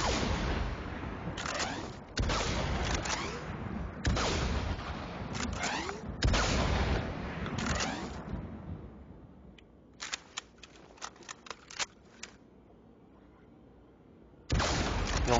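Planetside 2 bolt driver sniper rifle firing as an NC Infiltrator, loud booming single shots with bolt cycling between them, followed by quieter clicks and a final loud report.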